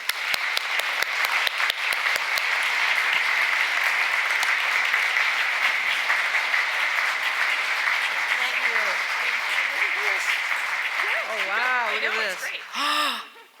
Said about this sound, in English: let's offer her a second round of applause